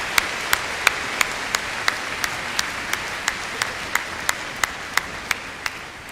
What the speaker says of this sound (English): Once more, a round of applause for our recipients of the MBA.